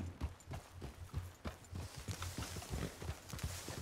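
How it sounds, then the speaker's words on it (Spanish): Horses clip-clopping in the Wild West video game RedM, an even run of hoofbeats at moderate distance, fairly quiet, with a faint background rumble and no talking. "Escucho mucho caballo ahí, ¿no?"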